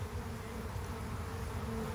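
A steady, dense hum of many honeybees buzzing together at a hive entrance, continuous and even, with no voices.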